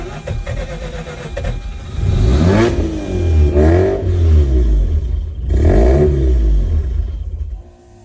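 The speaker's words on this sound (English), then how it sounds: "Let's see if the vehicle will remain idling." A 2004 Mazda RX-8 track car's rotary engine sputters and revs unevenly while failing to hold idle, surging in three rough bursts before dying down, loud and close.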